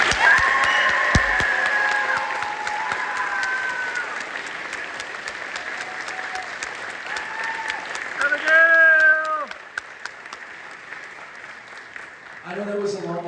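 Audience at a high school awards ceremony applauds a graduating student, sustained dense clapping with some cheering, while music with sustained tones plays over it, swelling briefly near the end.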